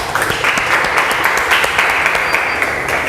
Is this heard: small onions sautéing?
no